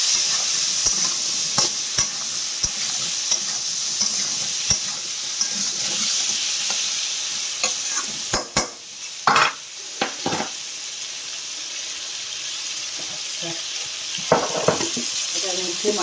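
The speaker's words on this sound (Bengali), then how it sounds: "মাছের ঝালে কড়াইতে ওটা ভাজা হচ্ছে, হোক।" Oil sizzles steadily in a wok for fish curry, a constant bright frying hiss with scattered spatula taps and a few louder scraping stirs against the metal, close up, with no voices.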